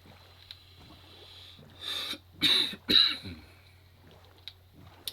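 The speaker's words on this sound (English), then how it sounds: "Man, this cough is annoying." A few quick coughs in a row, close by and fairly loud, over a quiet low hum with near silence before and after.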